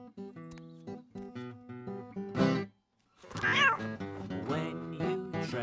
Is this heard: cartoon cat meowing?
yes